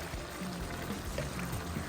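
Water poured into a cooking pan, a soft steady stream and trickle heard faintly and continuously with no talking.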